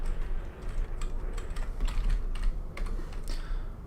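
Quick bursts of keystrokes as a command is typed on a computer keyboard while playing the space-salvage game Duskers, clicking steadily and close with no talk.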